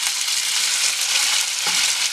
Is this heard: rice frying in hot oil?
yes